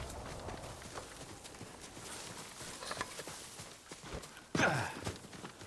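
Horse hooves clip-clopping in the samurai video game Ghost of Tsushima, a steady patter of steps under busy game ambience, then a sudden loud burst near the end.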